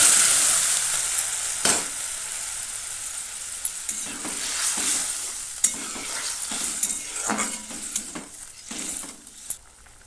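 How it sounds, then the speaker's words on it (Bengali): Radhuni seeds fry in hot oil for a spinach curry, giving a steady sizzle broken by several sharp clinks and scrapes of a spoon stirring in the pan, with no talking. "আর অল্প একটু রাঁধুনি সামান্য ভেজে এবার দিয়ে দেবো"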